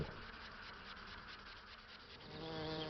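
A swarm of honeybees buzzes in a dense, continuous drone, close and fairly even, rising slightly toward the end with no voices over it.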